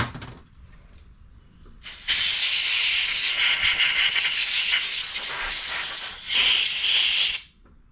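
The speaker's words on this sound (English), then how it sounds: "So we'll blow back through it, make sure it's clear and clean." Compressed air blown back through the carburetor of a Yard Machines 21-inch push mower, heard as a loud, steady hiss lasting several seconds with one brief dip, then cutting off sharply, close to the mic.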